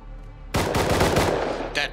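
In the game Rust, an AK rifle fires a rapid, loud automatic burst of about a dozen close shots that lasts around a second, then a short echo follows.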